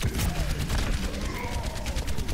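Rapid gunfire in a video game, a dense burst of repeated sharp shots with a sniper rifle among the weapons, loud and close, with someone talking excitedly over it.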